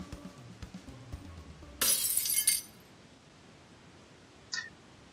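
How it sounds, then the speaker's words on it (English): A glass sound effect shatters in a sudden bright crash lasting under a second, preceded by faint low rumbling and followed by quiet, with a small tinkling fragment trailing a couple of seconds later. "That is getting to be an expensive habit of breaking that glass there. It's a cool effect"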